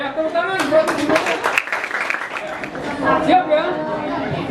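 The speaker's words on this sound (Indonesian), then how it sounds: "Tepuk tangan buat guru." Students in a classroom clap for their teacher, scattered claps mixed with lively chatter and overlapping voices close by.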